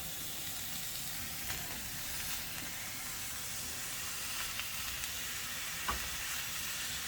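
About two pounds of 80% lean ground beef sizzles steadily in a pan with sautéed onions, a constant hissing fry with occasional small pops.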